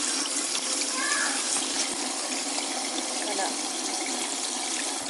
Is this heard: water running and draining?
yes